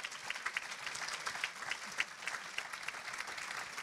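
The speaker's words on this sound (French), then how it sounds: "vous pouvez vous applaudir vous-même" An audience at a conference applauds itself, steady moderate clapping from many hands with a few sharper individual claps standing out, continuing throughout.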